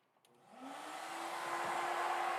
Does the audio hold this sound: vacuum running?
yes